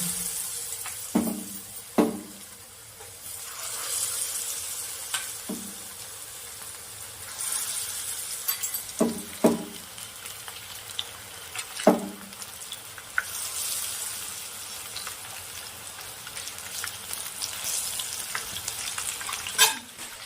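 Bombay duck fish pakoras fry in hot oil, a steady close sizzle broken by several sharp splashy bursts as pieces go in or get stirred, with no talking.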